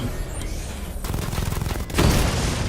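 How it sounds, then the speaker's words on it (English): A chain gun fires in the Batman: Arkham Knight video game, a dense rapid fusillade of loud overlapping bursts that cuts briefly near the middle and then resumes heavier and louder. "The chain gun's not powerful enough."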